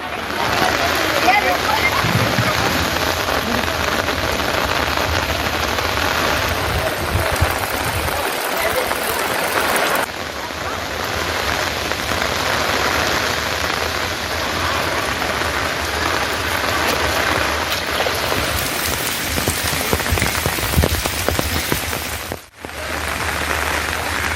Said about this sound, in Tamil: திருப்பத்தூர் பகுதியில் தற்போது மீண்டும் கனமழை பெய்து வருகிறது